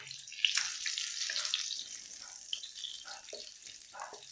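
Lightly fried potatoes go into hot spiced oil for a Bengali prawn and pumpkin curry and sizzle softly. The quiet frying comes with faint stirring, and there is no talk.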